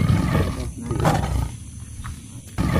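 A white tiger gives a deep, rumbling roar that swells near the middle of the stretch, close and fairly loud over a steady background of ambient noise, with no talking.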